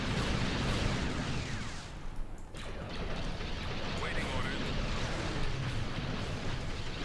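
Space battle in the Sins of a Solar Empire Star Wars mod, with a dense, continuous roar of blasts and weapon fire that dips for a moment midway and then rumbles on loud and close.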